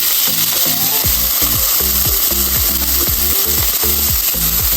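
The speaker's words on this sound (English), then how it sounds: "Add a little bit more oil. We're going to introduce our vegetables now." Vegetables hit hot oil for shrimp and chicken fried rice and sizzle loudly and steadily, with a constant hiss up close and repeated clanking of a spatula or pan beneath it, and no talking.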